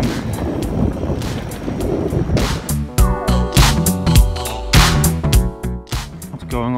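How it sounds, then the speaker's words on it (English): Headwind buffeting a microphone on a coastal road during a cycling tour in Thailand, a broad rushing roar throughout, joined midway by louder clattering and tonal sounds that partly mask it. "It's been quite windy today as well, headwind"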